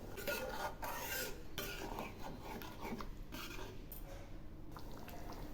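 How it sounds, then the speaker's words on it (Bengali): Cabbage curry being stirred in a pan after milk and water are added, a raspy scraping rub with wet sloshing, repeated in short strokes close by, with no talking. "একটু নেড়ে দিচ্ছি।"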